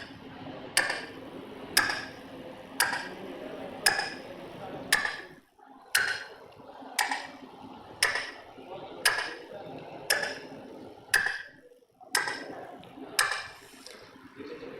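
A voice imitates the small second hand of a clock, producing about a dozen sharp, evenly spaced clicks, roughly one per second, close and clear with brief pauses.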